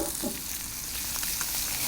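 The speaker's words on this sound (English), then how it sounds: "you're sort of stirring the asparagus around" Asparagus seasoned with salt and pepper sizzles steadily in a frying pan while being stirred around, with faint scraping over a continuous close frying hiss and no talk.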